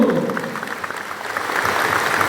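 Crowd applause at a community rally, loud, dense clapping from many people that follows a speaker's voice at the start and keeps going steadily.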